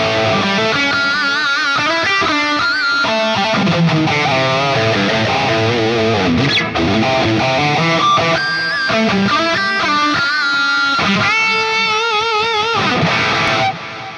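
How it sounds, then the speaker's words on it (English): Electric guitar lead tone played through a Fractal AM4 modeler with dual delay and reverb, a continuous loud melodic line with sustained bent notes and trailing repeats, no talking. "So here's my lead sound"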